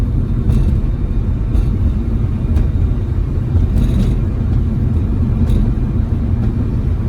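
A 1965 AMC Rambler Marlin with a 327 V8 drives on the road in a steady, unbroken low rumble, with faint intermittent ticks over the engine and road noise.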